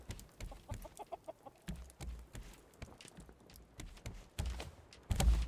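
A chicken in the survival game Raft clucks in short, scattered bursts with some soft thumping, ending on a louder low thud.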